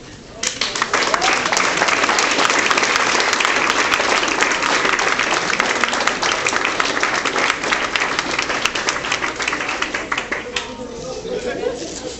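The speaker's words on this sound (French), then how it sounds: "Les hommes, on peut acclamer les femmes ce matin." Church congregation breaking into sustained, dense applause that swells quickly and carries on steadily for several seconds before thinning slightly near the end, full-room clapping with some cheering voices mixed in.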